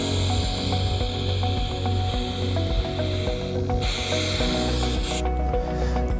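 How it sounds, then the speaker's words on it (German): ARDAP ant insecticide sprayed into cracks where a terrace meets masonry: a steady close hiss of aerosol spray running continuously under a busy mechanical background, with a few brief pauses in the spray. "Sollte auch nur so sprühen, dass es feucht ist"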